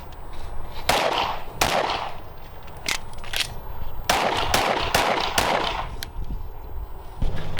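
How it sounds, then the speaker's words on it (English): Pistol shots ring out at an outdoor range during a timed four-round drill, sharp loud cracks in irregular bursts with echoing tails, several reports close together. "we'll shoot 4 rounds into that for time"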